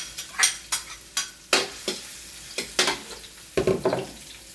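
Garlic and onion sautéing in a pan for Filipino pakbet, with repeated bursts of stirring scrapes and clinks over a steady sizzle at close range, no voices.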